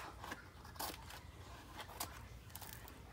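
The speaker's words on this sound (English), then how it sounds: "Let me just cut this edge off." Scissors snipping the edge off a magazine page for a collage, a few faint, quiet crisp cuts spaced irregularly over a low background hum.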